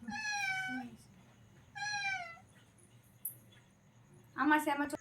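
A cat meows several times close by, long plaintive calls separated by pauses, with a shorter, louder meow near the end in a quiet room.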